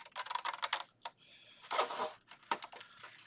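Scissors cut through a card base to shape a mini file folder, several close, crisp snips in uneven bursts with short pauses between them and no talking.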